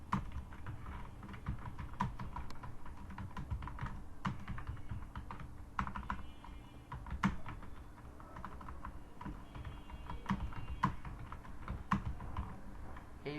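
Typing a word on a computer keyboard, with quick irregular key clicks tapping steadily and quietly close by, no talking.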